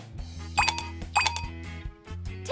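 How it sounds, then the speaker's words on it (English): Ice cubes dropped into a drink at a bar, several bright clinks against glass in a short sequence, close and distinct over a low background hum. "you just grabbed ice with your bare, dirty ass hand and dropped it in someone's drink"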